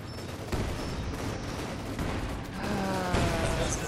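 Machine gun fire in Company of Heroes 2: dense rattling bursts of rapid shots mixed with mechanical clatter and battle noise, loud and continuous, with a tighter rapid burst near the end.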